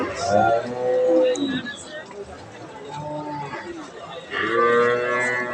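Cows low at the Kaharol cattle market where pregnant cows are sold, several drawn-out moos rising over nearby people talking and crowd chatter.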